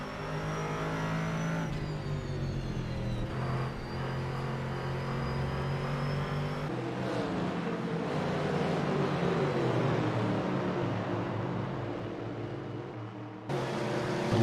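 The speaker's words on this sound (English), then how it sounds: "So 3 Corvettes here all racing for position." Several Corvette race cars battle for position at Lime Rock Park during a GT3 series race, engines droning and revving loudly and continuously for the whole stretch, with shifting pitch as cars pass close by.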